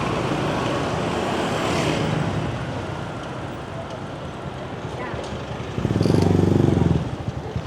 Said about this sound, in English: Traffic can be a little bit disconcerting at times.